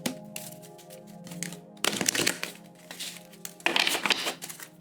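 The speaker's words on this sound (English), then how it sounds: "as I'm shuffling" Tarot cards being shuffled by hand: soft crinkly riffling and papery snaps, quiet at first, then two louder bursts of rapid card flutter, with no talking.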